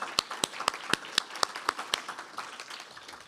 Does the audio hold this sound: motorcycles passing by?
no